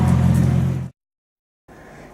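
Jeep with a Go Devil engine running, a steady loud mid-pitched engine drone that cuts out abruptly into silence, then resumes more quietly near the end.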